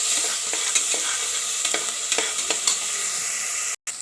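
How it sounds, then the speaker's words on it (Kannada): Coconut and tomato masala paste fries in hot oil for a sambar, a steady close sizzle broken by repeated stirring scrapes, with a brief dropout near the end. "ಅದನ್ನು ಫ್ರೈ ಮಾಡ್ಕೊಳ್ಳೋಣ"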